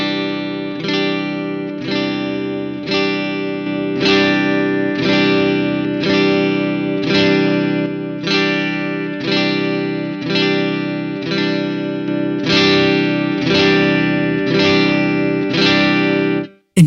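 Electric guitar played through AmpliTube 5 amp simulation, a distorted, effects-laden tone with repeated picked chords in a steady rhythm, loud and close, ringing alone with no talk.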